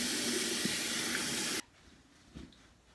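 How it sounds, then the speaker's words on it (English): Water from a sink tap runs steadily as gloved hands are rinsed after pink hair dyeing, a close hissing flow that cuts off abruptly partway through, leaving a quiet room with a faint knock. "I like to wash them off while they're still on my hands, so it's kind of just like washing your hands"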